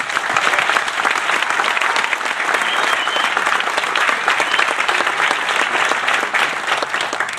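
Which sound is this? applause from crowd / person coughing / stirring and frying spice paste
applause from crowd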